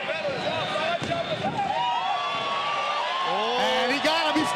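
An arena crowd at a Canadian heavyweight championship fight roars and whoops after a third-round knockdown, loud and continuous beneath excited commentators talking.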